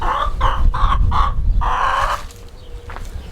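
Backyard chickens clucking inside a converted coop, a run of short, rhythmic bursts close by followed by a longer drawn-out call, with a quieter cluck trailing at the end.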